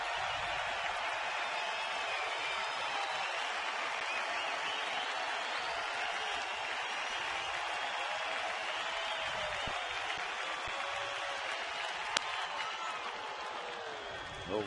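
A baseball stadium crowd of about twenty thousand on a Tuesday night waits for the final out, producing a steady, distant roar of cheering and murmur that stays even throughout, with one brief sharp crack near the end.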